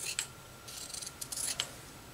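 Several short, crisp snips of scissors cutting a circle out of cross stitch fabric, quiet and close, coming in quick uneven bursts with brief pauses between.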